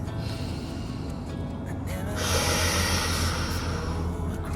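A person doing a Pilates core exercise with a small ball takes a long, deep breath out through the mouth, a breathy hiss that swells midway and holds, close to the mic.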